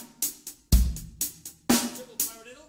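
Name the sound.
drum kit groove with triple paradiddle hand pattern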